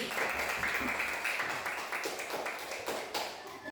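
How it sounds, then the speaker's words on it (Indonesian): Classmates clap for the first group stepping forward to present in a classroom, moderate scattered applause with irregular individual claps, fairly quiet and steady throughout. "Tepuk tangan dulu nomor 1."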